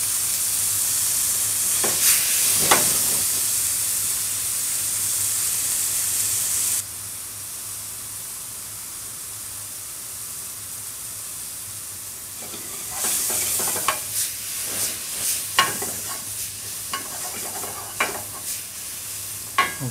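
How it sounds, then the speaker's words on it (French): Mushrooms searing in a hot pan give a steady close sizzle and hiss, joined later by scraping stir strokes and clatter from the pan; no one speaks over it. "Pour colorer nos champignons, puis éviter qu'ils rendent leur eau tout de suite, il faut absolument bien les saisir."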